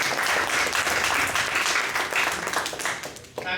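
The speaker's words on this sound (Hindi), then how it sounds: "मैं आपके लिए जोरदार ताली बजाऊंगा।" Enthusiastic audience applause at a cultural program held at a coach leadership centre, dense and steady clapping from a large crowd, close and loud, thinning out briefly near the end.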